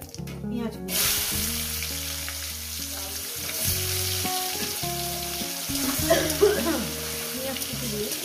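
Chopped onion hits hot oil in a pan with a sudden loud sizzle, then fries steadily with stirring clatter and a background tone, no talking.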